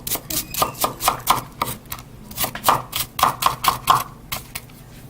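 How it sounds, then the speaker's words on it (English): A knife chops shallots on a cutting board in a rapid, irregular series of crisp taps, close and fairly clear, with brief pauses between bursts of strokes. "Now it's time for us to chop up the shallots."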